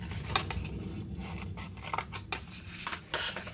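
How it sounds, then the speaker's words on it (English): Scissors snipping through paper while cutting the straight lines of a tall, skinny lucky dip bag, a series of close, crisp cuts at an uneven rhythm over a faint background hum. "cut straight up the other 3 lines"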